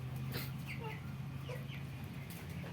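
Two-month-old Tiger chickens cluck in short, scattered bursts over a steady low hum, moderately close, with no talking.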